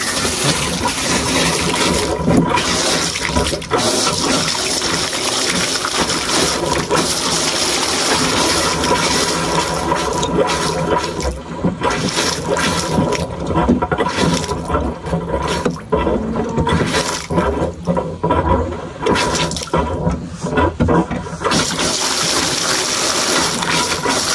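Steady rushing, gurgling water pours out of a drain plug continuously on a dairy farm, loud and close, with slight surges and dips in flow throughout.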